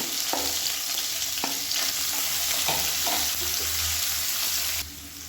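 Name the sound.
sliced onion frying with green chillies and curry leaves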